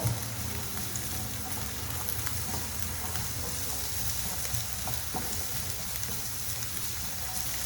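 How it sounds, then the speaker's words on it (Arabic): A small chopped onion frying in oil in a pan, a steady close sizzle with crackling pops, continuous and even throughout. "ديت هنا واحد البصيله قرطتها صغيره، ندير نشحرها واحد شويه"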